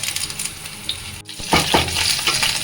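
Green mango pieces and two green chilies frying in oil in a kadai, a soft sizzle with a brief pause and then louder stirring scrapes and crackles, close and with no talk.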